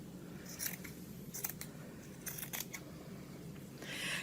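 Scissors snipping through T-shirt fabric while cutting it into strips for yarn, several close, quiet crisp cuts in uneven bursts over a soft background.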